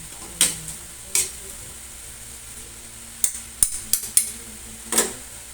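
A spoon stirring banana heart adobo in a pan, heard as a handful of sharp metallic clinks and scrapes against the pan spread unevenly over a quiet, faint background.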